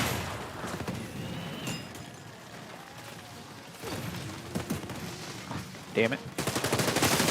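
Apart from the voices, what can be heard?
sniper gunfire in a video game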